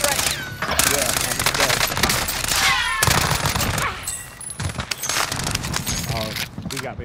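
Rapid automatic gunfire crackles through a trios battle royale video game, dense loud bursts layered with in-game effects and chatter, while players talk over the action.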